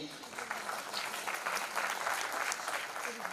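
Audience applause at the Atal Geet Ganga event honouring Atal Ji's birth anniversary, a steady crowd clapping that runs the whole stretch at moderate level with a voice faintly underneath.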